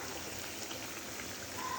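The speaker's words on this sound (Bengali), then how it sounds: "ভালোভাবে হওয়ার জন্য আমি ঝোলটা দিয়ে দিচ্ছি।" Broth being poured into a pan of katla fish curry, a steady trickling, splashing stream that runs continuously and close by for the whole stretch, with no talking.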